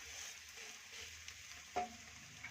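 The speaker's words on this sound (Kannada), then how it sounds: "ಎಣ್ಣೆ ಹಾಕಿದ್ದೀನಿ ಒಂದೆರಡು ಸೆಕೆಂಡು ನೋಡಿ ಇವಾಗ ಇನ್ನೊಂದು ಬದಿ ಹಾಕೋತಾ ಇದ್ದೀನಿ" Dry coconut holige frying in oil on a pan over low flame, a soft steady sizzle, faint and close, with one brief clink from a utensil near the end.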